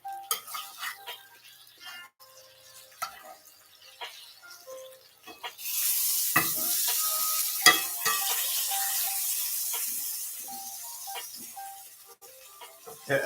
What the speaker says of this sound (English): Everybody likes that sizzle.